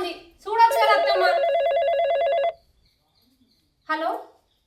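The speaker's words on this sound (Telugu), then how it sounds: "ఫోన్ వస్తుంది, చూడొచ్చు కదా అత్తమ్మ." A phone rings indoors in a Telugu village drama scene: a loud, warbling electronic ring lasts about two seconds, then falls silent before a short final burst.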